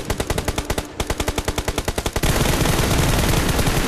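Automatic gunfire in PUBG on the Livik map, a fast regular string of loud close shots that gives way to a denser, continuous roar of fire.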